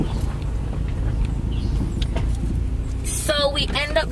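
A car rolls over a very bad, rough road in Jamaica with a steady, loud rumble of road and engine noise throughout. A brief burst of voices and another sound comes near the end.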